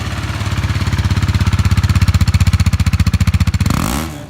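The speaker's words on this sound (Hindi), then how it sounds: "तो गाइस ये है इसका स्टॉक एग्जॉस्ट। हम सुनते हैं इसका नोट क्या है।" A 2018 KTM RC 390 motorcycle on its stock exhaust idles and revs, giving a loud, close, steady pulsing engine thump that rises in pitch toward the end before dropping away, with no one talking.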